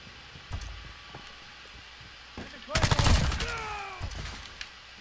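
Automatic gunfire in Call of Duty Modern Warfare beta multiplayer: a dense, loud burst of rapid shots with ringing echoes midway, between scattered single shots, while players talk over it.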